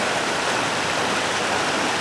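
A tiny waterfall in Cornwall Park rushes in a continuous, even, broadband splash, close and steady with no other sounds.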